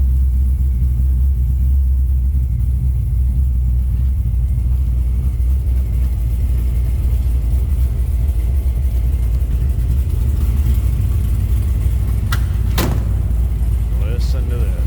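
A deep, steady LS3 V8 engine in a 1956 Chevrolet Bel Air Nomad rumbles close by, low and throaty, with a brief sharp click near the end.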